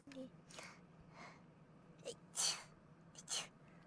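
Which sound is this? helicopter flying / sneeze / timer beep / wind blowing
sneeze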